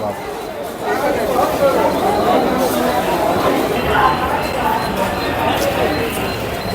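A dense crowd mills about a busy city bus stop on the way to Thane, a continuous murmur of overlapping voices and bustle filling the scene, with a nearby speaker talking over it.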